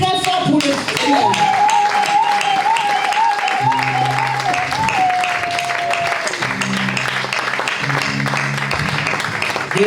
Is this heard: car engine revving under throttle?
no